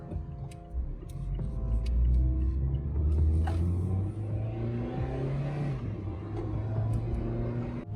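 A car engine with an aftermarket exhaust rumbles and revs up, its deep throaty exhaust note rising and falling before settling into a steady idle.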